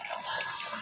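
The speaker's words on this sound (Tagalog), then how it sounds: "Kuha na tayo ng tubig sa gripo." Tap water runs from a faucet for a Filipino home-cooked dish, a brief, steady hissing stream heard close and alone.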